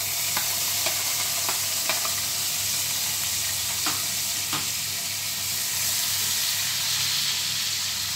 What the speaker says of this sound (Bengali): এবার আমি এর মধ্যে দিয়ে দিচ্ছি আরেকটা কেটে রাখা পেঁয়াজ।